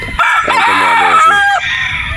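A broodstag-quality rooster with a straight comb gives one loud, close crow, rising and then holding a long, wavering call. A little background noise sits before and after it.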